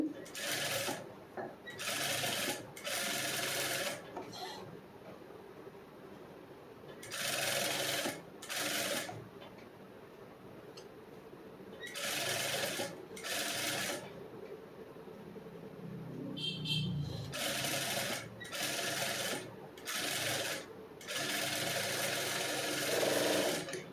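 A sewing machine stitches the lining of a back-open princess-cut blouse, running in repeated loud bursts of rapid whirring separated by short pauses, close up with faint voice in the gaps.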